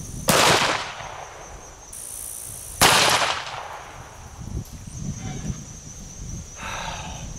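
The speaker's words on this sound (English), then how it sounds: "So now we're going to hit it with the AK-47." Two loud, sharp AK-47 rifle shots firing Tula 7.62x39 122-grain full metal jacket rounds at hard armor, a few seconds apart, each ringing out over a low outdoor background.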